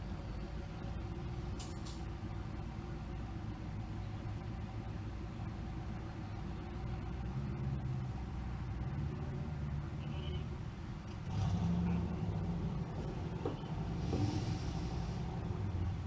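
A 4th gen Camaro race car idles and rumbles steadily as it backs out at a drag strip, the low engine drone swelling slightly louder near the end with faint background crowd noise.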